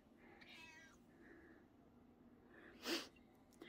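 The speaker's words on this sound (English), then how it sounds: "Kitty cat." A house cat meows indoors, a couple of soft, short calls followed by a sharper sneeze-like snort, faint against a quiet room with no talk.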